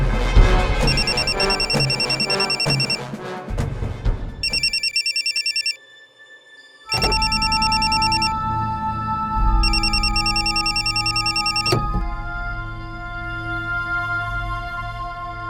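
A telephone bell rings in loud, repeated electronic bursts over background music, with a brief quiet gap partway through before the rings resume.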